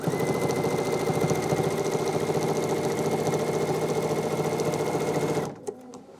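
Steady close hum of a sewing machine quilting a cuddle fleece backed quilt, running continuously at an even pace before cutting off abruptly near the end.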